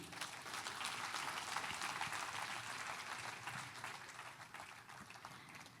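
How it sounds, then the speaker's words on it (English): A conference audience at a Nigerian Institute of Architects meeting gives a steady, sustained round of applause, fairly distant and even, with no speech over it. "Can we have yet another round of applause for the President"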